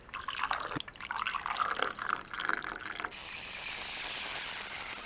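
Coffee is poured into a cup: a rattling, clinking start, then a steady, close hiss of liquid running for the last couple of seconds, with no speech.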